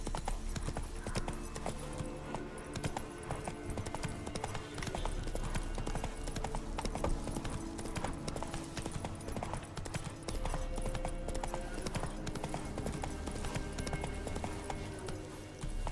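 A horse galloping in The Witcher 3 video game, rapid rhythmic hoofbeats pounding steadily throughout over a dense background, loud and continuous with no talking.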